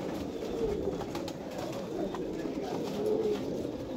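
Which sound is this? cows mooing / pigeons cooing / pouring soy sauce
pigeons cooing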